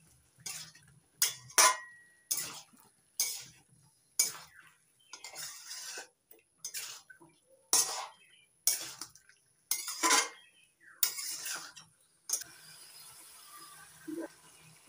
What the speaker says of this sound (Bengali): এবার নারকেল কোড়া ভালো করে মিশিয়ে নিচ্ছি সব কিছুর সঙ্গে।